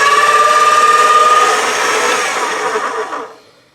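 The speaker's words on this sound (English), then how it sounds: "I'm going to roll this through the pasta machine on the thickest setting" A pasta machine rolls polymer clay through on its thickest setting, producing a loud, steady whirring hum with a tonal whine that tapers off and stops near the end.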